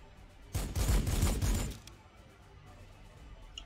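A burst of rapid gunfire crackles and booms for about a second in the strategy game Warhammer 40,000: Sanctus Reach, then fades into a quieter rumble with faint distant noises.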